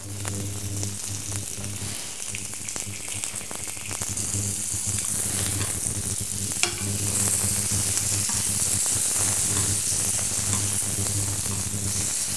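Foie gras sears in a very hot dry pan, giving a loud, dense, continuous sizzle and crackle that swells slightly over time and carries on without pause.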